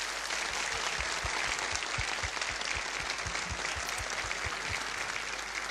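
A studio audience applauds TRT Ankara, Istanbul and Izmir Radio singers and instrumentalists at a folk music broadcast, with dense, steady clapping sustained evenly from start to finish and no voices over it.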